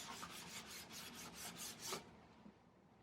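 A cloth rubs finish onto timber in quick back-and-forth strokes, a soft steady hiss close by for about two seconds that then drops to near quiet.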